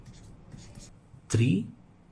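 Soft scratchy strokes of writing out a handwritten math solution, a few brief faint marks in quick succession, followed by someone speaking.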